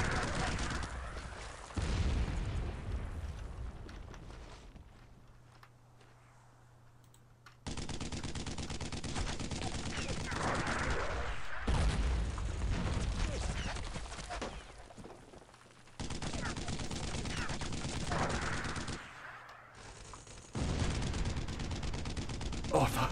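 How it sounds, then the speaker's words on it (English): Bursts of machine-gun and rifle fire from the World War II shooter Brothers in Arms: Road to Hill 30, loud rattling volleys broken by short quieter gaps, with a player talking over parts of the fighting. "Oh, it's shooting at them, not me."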